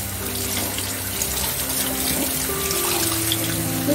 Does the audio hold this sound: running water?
yes